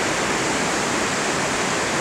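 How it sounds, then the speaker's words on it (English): Mountain river in Wisla with cold, clear blue water rushing past, a steady loud broadband roar of flowing water that stays close and unbroken throughout. "So this is mountain river in Wisla."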